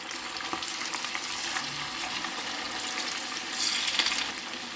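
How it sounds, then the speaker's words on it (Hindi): Chicken pieces frying in moderately hot oil, a steady close crackling sizzle throughout with a brief louder burst of spattering near the end. "तेल भी अब हमारा गर्म हो गया है। अब इसमें हम चिकन को डाल देंगे।"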